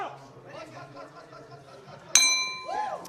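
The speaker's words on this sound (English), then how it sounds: "the bell's about to go at the end of the second" A boxing ring bell strikes once with a bright ringing tone that sustains to end the round at a men's world championship quarterfinal, heard under a commentator's voice and crowd murmur.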